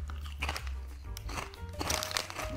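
Rufles Mega Crunch Salsa Roja chips are bitten and chewed up close, giving repeated loud, sharp crunches and crackles mixed with bag crinkling, with no talking.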